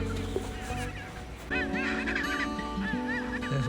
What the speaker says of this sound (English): you will hear the squawking noise of penguins in just a second